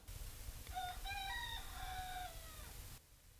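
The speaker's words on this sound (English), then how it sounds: "I don't know if you just heard my rooster." A backyard rooster crows once, a clear mid-distance cock-a-doodle-doo with a rising, then drawn-out falling call, over a low rumbling background before the sound cuts off abruptly.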